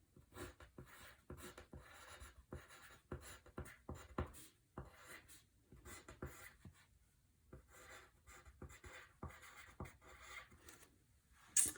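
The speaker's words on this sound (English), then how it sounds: "The first thing I'm going to do is write the book title, Lily's Purple Plastic Purse." Pencil on paper writing out a book title: soft, quiet scratching strokes in quick irregular bursts with brief pauses between words, close and isolated.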